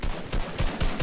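Gunfire in the video game Fortnite: several broadband shot bursts about every quarter second, loud and close, with no talking over them.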